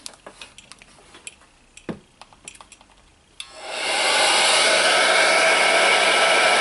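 Heat gun blowing hot air onto heat shrink tubing over soldered Deans battery connectors, starting after a run of small clicks and handling taps and then holding as a loud, steady whooshing roar.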